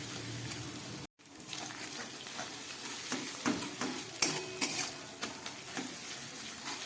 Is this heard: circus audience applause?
no